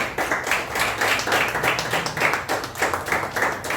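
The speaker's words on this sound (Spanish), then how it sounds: "Dale un fuerte aplauso al Señor." Church congregation applauding together in a steady, dense burst of clapping that carries on throughout, loud and close with no voices over it.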